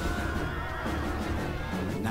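Horse neighing in a Total War historical battle game, a loud close whinny with wavering pitch over the background din of cavalry combat.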